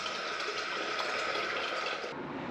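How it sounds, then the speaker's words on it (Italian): Water pours through a small improvised funnel into a camper's water tank, a continuous bright gushing rush that stays strong and steady and then thins slightly near the end. "permette di buttare l'acqua attraverso questo imbuttino all'interno del serbatoio del camper"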